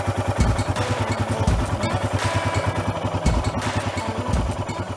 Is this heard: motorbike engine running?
yes